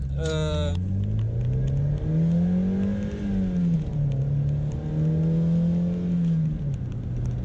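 A Mazda MX5 NB accelerates with a steady engine drone that rises in pitch, dips briefly, then climbs again, heard from inside the car, with a short beep-like tone at the start.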